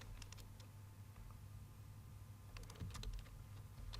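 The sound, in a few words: typing on a computer keyboard in MS Word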